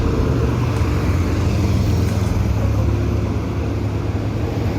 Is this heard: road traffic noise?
yes